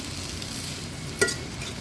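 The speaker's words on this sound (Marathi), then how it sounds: "ह्याला आता मिक्स करून घेते मी" A green vegetable is stirred into spices in a pan, giving a soft, steady sizzle with one sharp scrape or clink of the spoon partway through.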